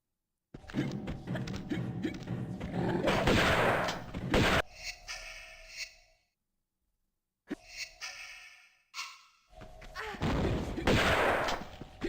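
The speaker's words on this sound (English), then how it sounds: "Alright, shotgun time." Shotgun blasts and combat noise from Tomb Raider, with loud dense bursts in two stretches split by a short silent gap.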